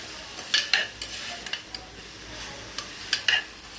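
Ingredients for fenugreek rice are stirred and sautéed in a pan, with a soft steady sizzle under sharp metallic scrapes and clinks of a spoon against the pan in irregular bursts.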